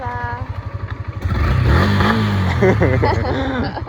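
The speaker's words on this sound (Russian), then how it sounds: "Да, супер байк." A superbike's engine idles with a rapid pulsing beat, then revs up into a loud, close roar that rises and falls in pitch, while people talk nearby over it.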